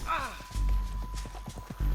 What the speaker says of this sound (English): Get him on your horse. Let's go for a ride.